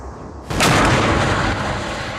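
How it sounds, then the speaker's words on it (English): A sudden loud whooshing blast erupts about half a second in as an explosion in a vortex cannon's base fires a donut-shaped air pulse, then a sustained rumbling roar of rushing air that slowly settles. "An explosion in the base of the cannon creates a single pulse of air the shape of a donut"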